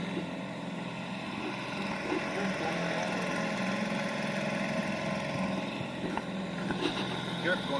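An outboard engine mounted on a canoe drones steadily on Lake Erie, a constant close motor hum with wind and water noise, no clear pauses, and a voice faintly beneath it.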